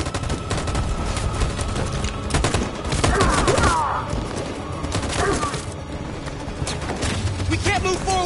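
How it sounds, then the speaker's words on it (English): Machine gun fire in the video game Detroit: Become Human, a dense continuous rattle of automatic gunfire mixed with battle noise and shouting voices throughout, loud and close. "That machine gun is taking down everything that moves!"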